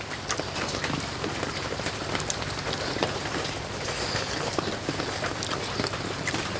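Steady rain falls on a surface during an outdoor seafood cooking session, a dense even patter of drops with no voices, holding at a constant level throughout.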